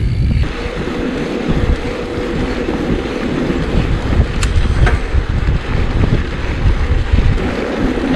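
Wind rushing over a mountain biker riding rural field paths near the Boleráz water reservoir, a steady close roar of microphone buffeting with low rumbling gusts throughout.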